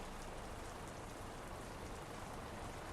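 Steady rain in Euro Truck Simulator 2 hisses evenly and faintly, a constant wash of droplets with no other sounds.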